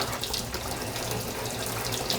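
Scalding hot water runs steadily from a tap, a continuous close hiss and splash that stays even throughout, with no talking.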